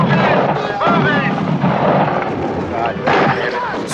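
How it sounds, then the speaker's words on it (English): Gunfire from the horror film Dawn of the Dead rings out as several heavy, booming shots and bursts, mixed with voices and shouting. "Shots ring out."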